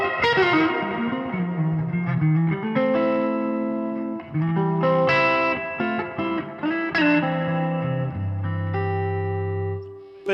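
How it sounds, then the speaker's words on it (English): An electric guitar played with heavy reverb and effects, ringing sustained chords and melodic notes that bleed into a washy ethereal tail, loud and continuous throughout with no talking. "you turn the reverb up to about 7 and hide all the mistakes."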